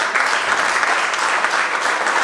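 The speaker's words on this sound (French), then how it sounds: "Je vous demande vraiment d'applaudir un très très applaudissement pour monsieur Samuel et Brissia et Sabatena" During a show, an audience gives the teachers a loud, close, continuous burst of clapping with an even, dense texture for the whole short stretch.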